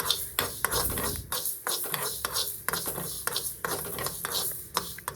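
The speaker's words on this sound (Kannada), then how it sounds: "ನೆಕ್ಸ್ಟ್ ಈಸ್ ಮೆಂತ್ಯನ ಹಾಕ್ಕೊತಾ ಇದ್ದೀನಿ" Fenugreek seeds added to a pan with mustard seeds and lightly fried, heard as faint, rhythmic stirring and scraping of a utensil against the pan with a soft sizzle underneath.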